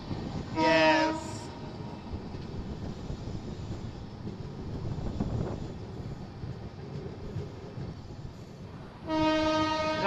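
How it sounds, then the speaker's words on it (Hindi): Indian Railways express train running on the line between Delhi and Muzaffarpur, with a steady rumble of wheels on track throughout and a loud harmonic horn blast near the start and again at the end. "अब हमारी ट्रेन भी एक्सीलरेट करेगी।"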